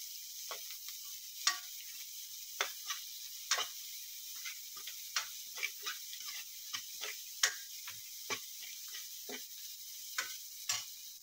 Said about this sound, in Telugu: ఇది పచ్చివాసన పోయేదాకా వేపుకోవాలి ఒక 5 మినిట్స్